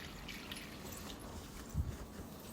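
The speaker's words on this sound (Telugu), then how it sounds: "రైస్ కడిగిన వాటర్ని స్టోర్ చేసేసి పోస్తూ ఉంటాను" Rice-washing water is poured onto potted plants, a faint soft trickle and dribble of liquid with a brief louder splash near the end.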